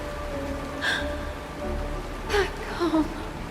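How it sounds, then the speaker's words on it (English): Soft, steady rain falls in the Honkai Star Rail video game, a faint hiss filling the background, broken by a few brief breathy vocal sounds from a character. "This is the sound of rain."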